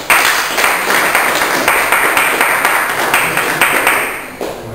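Audience applause fills the hall after a unanimous judges' decision ends a three-round amateur boxing bout, steady loud clapping throughout with some cheering, tapering slightly near the end.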